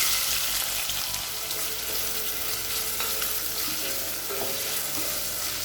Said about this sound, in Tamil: அடுத்தது பொடியான இருக்குன்னு 2 பெரிய வெங்காயத்தை சேர்த்துக்கலாம்